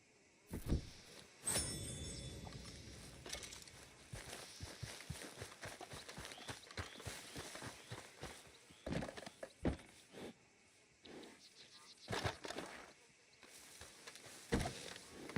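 Horse hooves clip-clopping in the Red Dead Redemption 2 video game, irregular quiet thuds and gallop beats with occasional louder knocks and rustles over about fifteen seconds.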